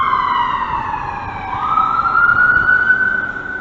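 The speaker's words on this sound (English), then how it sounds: "Putting on the siren right as I come back here." A loud, close emergency siren wails steadily, its pitch sweeping upward partway through over low road rumble.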